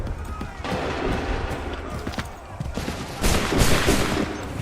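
A musket volley rings out in Assassin's Creed III: scattered gunshots crackle, then a louder burst of fire erupts near the end, over battlefield noise and shouting voices.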